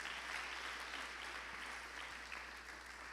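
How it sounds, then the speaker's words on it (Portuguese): Church congregation applauding during a Portuguese-language sermon, a steady wash of many hands clapping at a moderate distance, filling the space evenly with no voice rising above it. "aplaude o Senhor bem em nome de Jesus."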